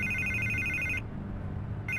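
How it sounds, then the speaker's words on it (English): A telephone rings in the Batman: The Telltale Series video game, a repeating electronic trill that sounds for about a second, pauses, then starts again over a steady low background hum. "I can't get the phone to stop ringing."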